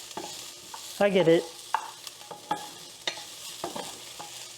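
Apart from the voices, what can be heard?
shallots frying in a pan for egg fried rice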